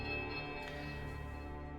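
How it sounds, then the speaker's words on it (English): A heavy iron temple bell tolls in Pillars of Eternity, a single deep sustained ring with a long humming decay that fills the space, moderately quiet and with no voices. "The clapper strikes a low, powerful note against the heavy iron."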